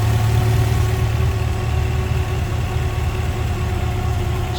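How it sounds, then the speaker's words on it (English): A 1967 Sunbeam Alpine Series V with twin Stromberg carburetors idles steadily and smoothly, its low, even four-cylinder hum holding constant and close throughout with no voices. "Smooth running engine."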